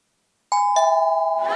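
A front-door chime at a home rings a two-tone ding-dong, two clear bright notes with a lingering ring, heard alone and close with a little background noise at the end.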